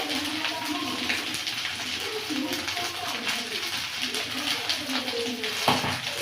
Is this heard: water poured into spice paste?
yes